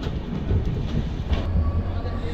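Sealdah–Jammu Tawi Humsafar Express (22317) pulling into Dhanbad station, a steady low rumble of carriages with rail clatter heard from on board, close and continuous.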